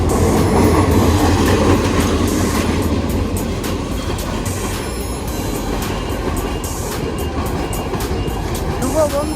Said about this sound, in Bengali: আমরা এই যে ট্রেনের জন্য হোল্ডে আছি। ট্রেন আসছে।